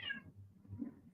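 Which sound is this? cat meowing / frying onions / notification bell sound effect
cat meowing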